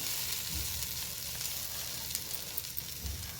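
Ivy gourd (dondakaya) with coriander frying in a pan gives a steady close sizzle, with soft low knocks of stirring near 0.6 and 3.1 seconds and small scraping clicks late on.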